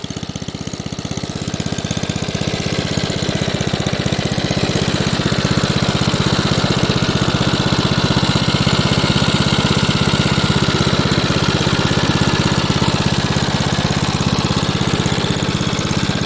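The engine of a 1960s Goodall three-blade lawn mower, a barn find, idles steadily with paint burning off its muffler. Its loud, even chugging runs throughout with no talk.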